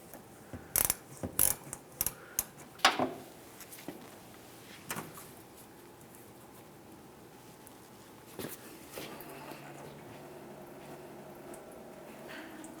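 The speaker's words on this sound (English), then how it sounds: "Continue on with a 19mm wrench to loosen this nut." A 19mm wrench loosening a nut on a 1998-2002 Lincoln Navigator during radiator fan clutch work: a quick run of faint metallic clinks and taps near the start, then sparse soft knocks against a quiet garage background.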